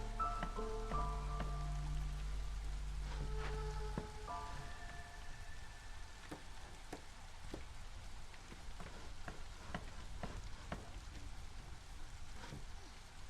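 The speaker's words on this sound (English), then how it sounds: "This is the drizzle" Light drizzle falls in the video game Against the Storm, a soft steady patter of fine drops with scattered sharper ticks, continuous and low under occasional tonal game interface chimes.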